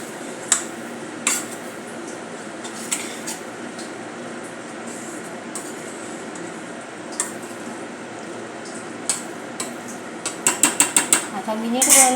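Roasted spinach stirred with masala in a pan for palak matar bhaji, a quiet ongoing clatter and scrape of a spoon with scattered clinks, rising into a quick burst of sharp taps at the end.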